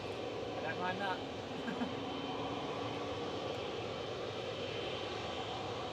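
A KLM Embraer E2 jet taxis at Manchester Airport with a steady, moderately distant engine drone, and a voice talks briefly near the start.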